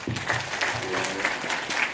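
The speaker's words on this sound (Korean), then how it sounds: "이 선생님들 위해서 박수 한번 주면 좋겠습니다." Students at a Korean-language course graduation ceremony clap for their teachers, a full, steady round of applause with some voices mixed in underneath.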